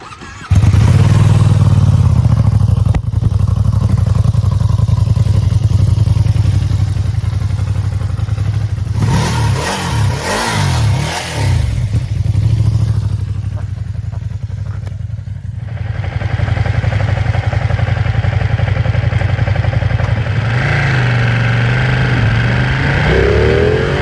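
A Ducati Streetfighter V2 twin-cylinder motorcycle runs loud and close for a sustained stretch, its engine droning with wind rush, rising and falling through several revving pulses midway before settling back into a steady cruising roar.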